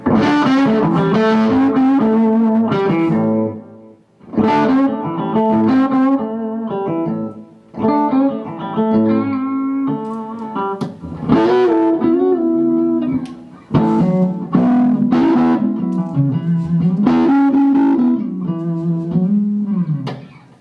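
An electric guitar runs through an amplifier with a clean boost, ringing out a sequence of chords and single notes with a thick, slightly distorted tone and short pauses between phrases, with no talking.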